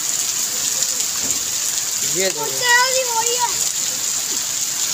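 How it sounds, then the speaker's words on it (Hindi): Steady rain hisses throughout during flooding that has left a house half under water, while voices talk over it, close by. "बस गाइस बारिश देखो"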